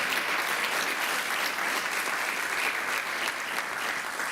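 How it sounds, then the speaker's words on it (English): Steady, dense applause from an audience at a Climate Week NYC opening ceremony, sustained evenly for several seconds with no talking over it. "Let's give them a round of applause."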